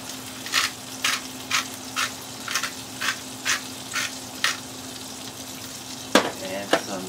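Tilapia fillets frying in a pan of melted butter, a steady close sizzle with soft crackling pops and a few sharper spatters toward the end, no talking.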